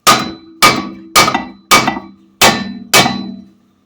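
Six loud metallic hammer blows strike a brake rotor between the wheel studs of a 1989 Suzuki Swift hub, evenly spaced about half a second apart, each ringing briefly before the next.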